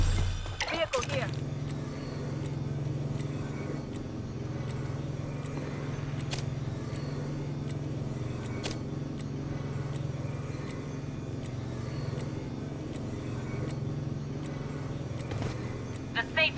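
Vehicle driving in the video game Blood Strike, a steady low engine drone that runs throughout with a few brief clicks and knocks over it.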